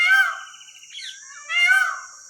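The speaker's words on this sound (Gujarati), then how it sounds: "મોર બોલી રહ્યા છે, વરસાદનું વાતાવરણ છે" A peacock calls twice nearby in rainy weather, loud drawn-out cries separated by a short pause, against otherwise quiet surroundings.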